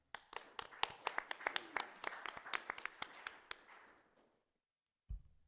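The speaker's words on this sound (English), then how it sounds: "So please join me in giving them a hand of applause." A small group at a city council meeting claps for the department. The claps are sharp, separate and fairly close, with an uneven rhythm, then thin out and fade into silence, and a soft thump comes at the very end.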